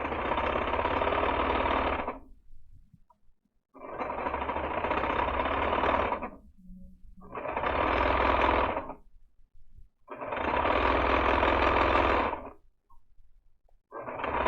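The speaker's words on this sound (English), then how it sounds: "here I am, serging away." A serger sewing machine running in four long bursts of fast, rattling stitching, each a couple of seconds long, with brief quiet gaps between, close and steady.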